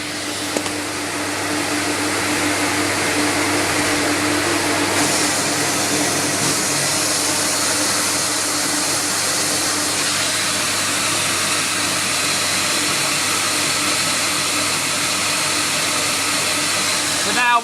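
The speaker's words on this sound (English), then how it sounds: "now we're running the vacuum pump and extracting from the CamVac straight into the workshop" A CamVac CGV286 dust extractor's vacuum pump gives a loud, steady motor roar with a high airy whine, running continuously in a workshop, close and unchanging, with speech faintly present beneath it.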